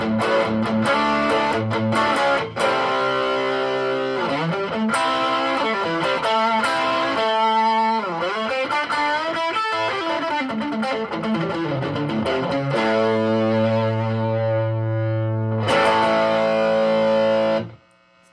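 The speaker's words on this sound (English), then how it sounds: "going halfway between overdrive and distortion. Take the gain up a little as well." A heavily distorted electric guitar through an Eaglebones Falconhawk Falcondrive pedal with gain raised plays sustained chords and melodic runs, loud and saturated, ending abruptly.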